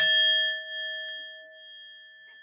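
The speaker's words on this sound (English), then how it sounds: "I'll give you a little nerd gong." A single struck gong or bell-like tone used as a sound effect rings out with a bright attack and long sustained metallic overtones, decaying slowly over a couple of seconds with no talking.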